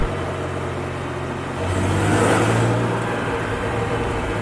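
A Porsche 911 turbo engine accelerates out of a roundabout, heard from inside the car as a steady mid-pitched drone that swells in the middle and then eases back, with road noise underneath.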